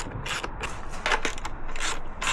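A ratchet clicks quickly while airbox bolts are tightened on a Yamaha WR125X motorcycle, close and crisp, the bursts of clicks separated by brief pauses, with no talking.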